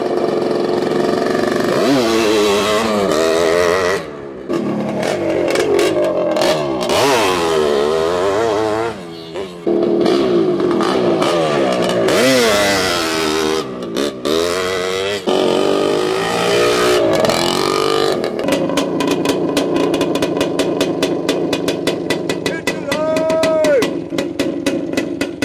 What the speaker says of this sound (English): why would we put a 500cc, the most powerful two-stroke liquid-cooled motor ever made